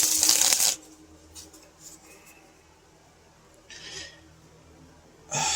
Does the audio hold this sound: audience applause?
no